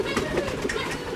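Pigeons in a loft, soft cooing and fluttering bird sounds heard close up over a steady background hum.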